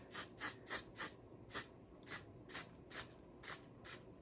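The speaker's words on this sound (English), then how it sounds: "I'm just gonna lightly spray the closure" A series of short Sally Hansen aerosol spray bursts onto a wig closure, about ten quick hissing puffs in an uneven rhythm, close and fairly quiet.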